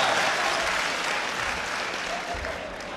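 An audience claps at a mushaira poetry gathering at Gandhi Bhawan in Lucknow, steady dense applause filling the hall throughout, fading slightly toward the end.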